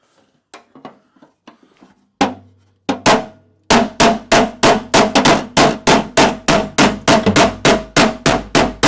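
A dented car body panel is struck repeatedly with a hammer: a few soft taps at first, then loud, ringing metallic whacks that settle into a steady, forceful rhythm close by.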